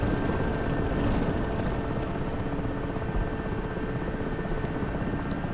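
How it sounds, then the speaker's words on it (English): Steady, loud rotor and turbine drone of an Mi-8 helicopter settling down to land in a combat flight simulator, an unbroken whirring roar with no talking. "I can gently kind of lower the aircraft into the smaller spot"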